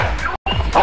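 A dog barks close by in two or three sharp yelps, broken by a brief silent gap, as people arrive at a house in the Philippines.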